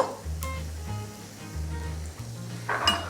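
Dried red chillies fry in hot oil for beetroot chutney, a soft close sizzle with light crackles and a brief clink of a utensil near the end, over a low steady hum.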